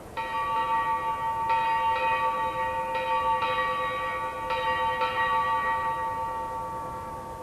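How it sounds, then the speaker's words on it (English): The ship's bell of HMS Terrible rings eight bells at the end of a watch, struck in paired clangs with lingering metallic ringing that slowly fades, alone and fairly close. "Eight bells, a solemn moment. The ship's bell of HMS Terrible ending the watch."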